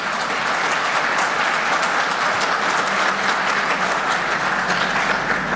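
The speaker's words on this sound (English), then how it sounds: "A big round of applause," Dense, continuous applause from a large conference audience, a steady wash of many hands clapping at even loudness with no voices over it.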